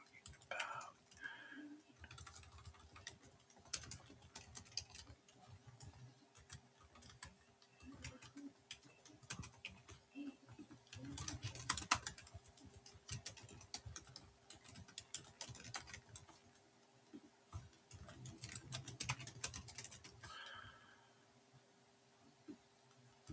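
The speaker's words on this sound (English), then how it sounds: "I hope that typing's not too crazy in your guys' in the mic." Computer keyboard typing during a live stream, quiet irregular clicking taps that come in bursts and pauses, close to the microphone, with soft talk in the background.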